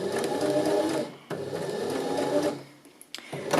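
A sewing machine stitches in reverse back to the seam start on a short stitch length, running loud and close in steady bursts with a brief pause around the middle and a stop near the end.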